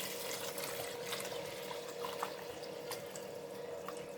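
Water is poured steadily into a pot of Kerala red matta broken rice, a faint continuous trickling splash with a few small drips, quiet and without talk.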